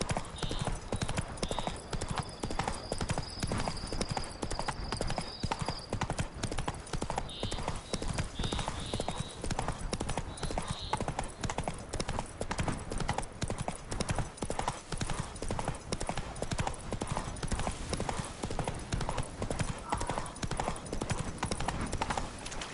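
Rapid, steady hoofbeats of Roach, Geralt's horse in The Witcher 3, galloping hard and loud up close, with a brief whinny early on.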